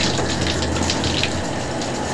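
Steady water gushing from a tap or sprayer while wetting a dog during a bath, loud and continuous with no pause, close to the microphone and with no talking.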